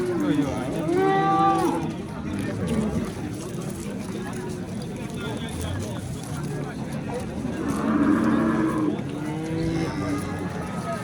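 Cows low twice at the Yakkatut livestock bazaar in Andijon, one drawn-out moo early and another later, over a continuous murmur of voices and crowd noise.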